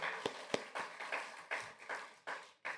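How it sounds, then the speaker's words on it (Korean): In a university chapel service at Daeshin University, the congregation claps in a steady rhythmic pattern, each clap sharp but fairly faint, repeating several times. "이런 박수 한번 쳐주세요"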